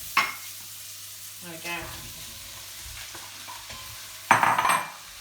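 Chopped onion and celery fry gently in a pan for a Moroccan stew, a soft continuous sizzle punctuated by a few utensil clinks and a louder burst of stirring near the end, with a short spoken phrase.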